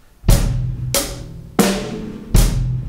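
Four strong drum kit hits, alternating kick and snare with hi-hat, played slowly and evenly, loud and nearby.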